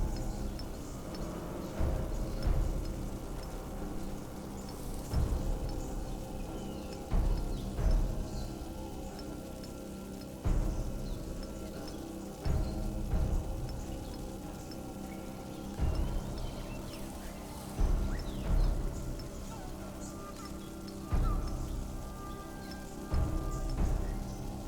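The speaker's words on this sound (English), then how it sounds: "Lovely rain." Rainfall in the fantasy strategy game SpellForce 3: Fallen God, a steady hiss of rain on surfaces with rhythmic low rumbles and pulses repeating every couple of seconds, no talk over it.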